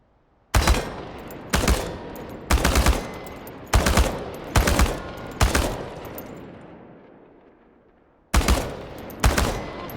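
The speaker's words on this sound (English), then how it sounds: "The biggest challenge is compensating for recoil in automatic firing mode." Bursts of automatic rifle fire ring out at target cans in the game ChernobyLite, seven loud close volleys in an uneven rhythm, with a long fading echo before the last two bursts.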